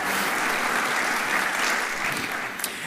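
An audience at a school hall of honor celebration breaks into sustained, dense applause, a full, even wash of many hands clapping throughout.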